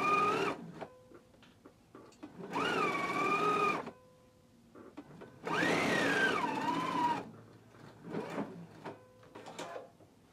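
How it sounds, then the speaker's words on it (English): A sewing machine stitches darts in two steady whirring bursts, each lasting one to two seconds, with quieter fabric handling and clicks in between. "So let's go ahead and sew our darts in place now."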